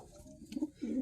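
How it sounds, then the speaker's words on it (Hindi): A female pigeon gives a brief, soft coo, a low throaty warble rising near the end of a single short moment, fairly faint and close. "बहुत बेहतर कबूतरी है।"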